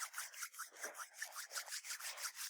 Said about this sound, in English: Begin to rub the palms